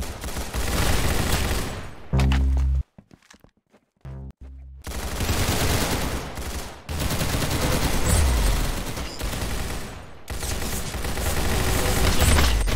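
Rapid automatic gunfire from the Roblox Arsenal video game, loud dense bursts of shots broken by a couple of short gaps, with game music and effects mixed in.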